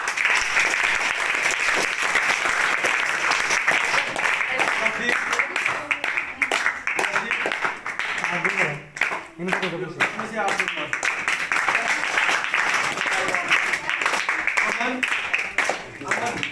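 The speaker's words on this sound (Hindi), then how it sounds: "जोरदार तालियां" Loud, sustained clapping from students in a tuition and computer centre classroom fills most of the stretch, thinning briefly in the middle while a teacher speaks over it.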